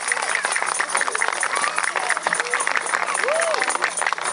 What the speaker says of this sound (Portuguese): Agora gostaria que vocês fizessem aqui uma grande, grande, grandíssima salva de palmas para estes meninos que dançaram maravilhosamente bem.